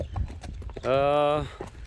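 Horse hooves clop in a quick run of knocks near the microphone, joined midway by a sustained tonal sound, with people talking throughout.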